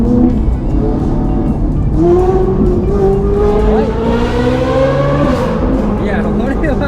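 Ferrari 458 with a Power Craft aftermarket exhaust revving hard inside a tunnel: loud, sustained high-pitched wail whose pitch sweeps up repeatedly across several climbing revs, echoing and continuous throughout.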